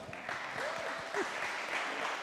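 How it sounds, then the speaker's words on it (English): An audience applauds a contestant at a UK barista championship semi-final, a short burst of clapping with a voice speaking over it. "let's give Oli one last round of applause"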